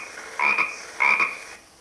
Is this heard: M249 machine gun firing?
no